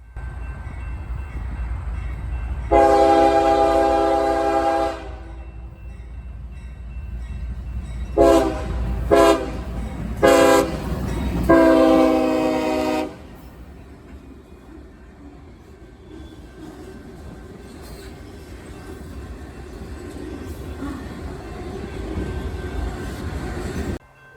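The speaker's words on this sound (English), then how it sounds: "My final train of the day was back at the usual spot. This was L314 with usual power on the point." Freight train L314 sounds a long horn blast and then a series of short and long blasts while passing, loud and close, followed by a steady rolling rumble of railcars that fades and builds again.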